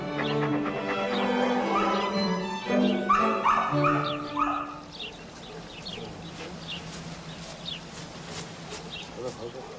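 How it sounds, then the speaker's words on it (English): Pedigreed dogs kept in immaculately clean kennels bark and yip in a loud, busy chorus for the first few seconds, then drop back to scattered, fainter yelps and whimpers, with birds faintly in the background. "a collection of pedigreed dogs, housed in kennels kept immaculately clean"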